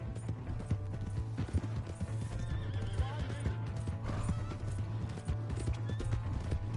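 Rhythmic hoofbeats of a galloping horse in Red Dead Redemption 2, with a whinny partway through, steady and close over a constant low hum.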